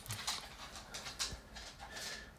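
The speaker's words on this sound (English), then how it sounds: "these dogs and stuff coming in here." A dog pants in short breathy bursts close by, a quick repeating huff that carries on steadily through the moment.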